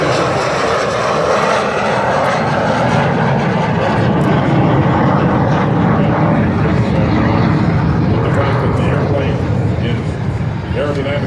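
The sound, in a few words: airplane flying slowly with landing gear and flaps down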